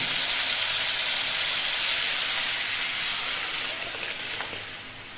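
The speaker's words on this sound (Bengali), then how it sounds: "এবার এর মধ্যে আমি ডালটা সম্বার দিচ্ছি।" Lentils poured into a pot of hot oil for tempering while cooking dal set off a loud, bright, hissing sizzle that stays strong before easing off slightly toward the end, with no voices.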